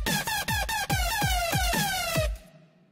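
Lead synth built in Reason with plate reverb plays a quick rhythmic run of bright, buzzy notes with pitch-dropping punches under each hit, then a reverb tail rings out alone.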